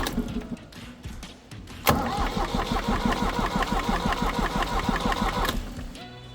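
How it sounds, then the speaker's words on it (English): A Universal 530DT tractor's diesel engine cranks over steadily for several seconds while its injector lines are being bled. The starter churns rhythmically and loudly up close, then cuts off. "Just cranking it over till the fuel comes through."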